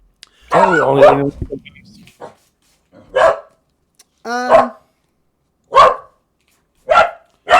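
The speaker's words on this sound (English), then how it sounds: "Sorry for the dogs." Several dogs bark near and loud: one long whimpering, yelping burst, followed by single sharp barks spaced roughly a second apart.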